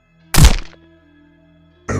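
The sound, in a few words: body thudding to the ground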